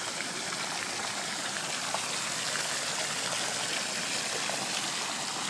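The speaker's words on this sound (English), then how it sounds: "saltwater pump seems to be doing its job." Water flows and trickles from the saltwater pump of an Intex Ultra Frame above-ground pool, a steady soft splashing wash that holds even throughout with nothing else over it.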